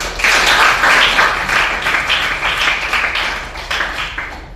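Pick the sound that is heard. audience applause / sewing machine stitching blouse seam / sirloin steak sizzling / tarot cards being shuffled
audience applause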